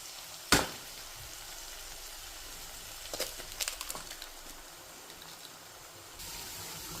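Two eggs for a home-style egg kothu parotta hit a hot pan with a sharp crackle, then settle into a steady, quiet sizzle broken by a few light stirring clicks.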